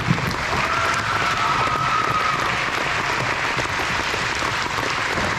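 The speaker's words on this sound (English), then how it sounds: "You guys give them another round of applause." Audience applause for standing veterans at a Veterans Day event, a steady, dense wash of many hands clapping that holds level throughout, fairly close and uninterrupted, with no talk over it.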